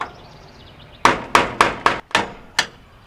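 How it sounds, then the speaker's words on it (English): A hammer taps a rusted screw tab counterclockwise, six sharp, loud metallic strikes at an uneven rhythm, each ringing briefly before fading. "we're going to take a hammer, we're going to tap it counterclockwise"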